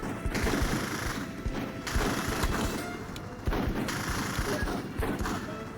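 Dense bursts of gunfire and volleys of shots from the Full Spectrum Warrior video game, steady and loud throughout, with heavier thuds and booms layered in the ongoing firefight.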